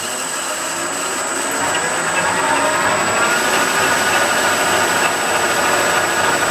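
A sawmill top saw cuts through a hardened grade 8 bolt, producing a loud, steady, close grinding roar of metal and machinery that holds for several seconds without a break.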